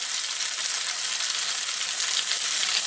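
Onion sizzles steadily in a hot pan as the first step of Mongolian beef, a bright, even hiss of frying that holds close and constant throughout with no voices.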